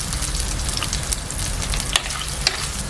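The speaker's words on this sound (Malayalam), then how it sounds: "ഉള്ളി ചേർത്തിട്ട് നല്ലപോലെ വഴറ്റി കൊടുക്കാം." Shallots sizzle steadily in a hot pan for a Kerala-style sardine mango curry, with a continuous close frying hiss and a few light stirring clicks, without any talking.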